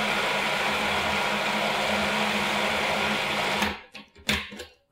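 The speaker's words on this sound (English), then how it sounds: "Give it 1 more whirl. You just want to puree it till it's really creamy." A blender whirs steadily, pureeing sweet potato hummus until creamy, a loud continuous motor drone that stops abruptly near the end, followed by a few clinks and knocks.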